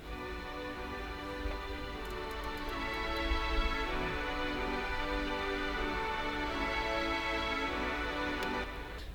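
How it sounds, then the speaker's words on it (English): Soft, sustained orchestral strings hold long, layered chords in the build-up of an electronic track, swelling slightly and staying smooth and steady throughout. "these strings, like a soft orchestra."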